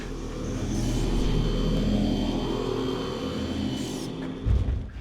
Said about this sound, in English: And then there's the sound you hear whenever you're close to a power-up,